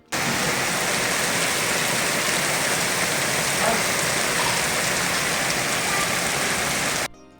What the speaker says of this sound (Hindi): बहुत अच्छी ज़बरदस्त बारिश हुई थी, दिल खुश हो गया था। आप लोग भी सुने।